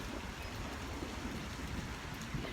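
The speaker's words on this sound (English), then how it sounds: "I love hearing the storms." Rain falls steadily in a soft, continuous patter with a low rumble underneath, fairly faint and with no one speaking.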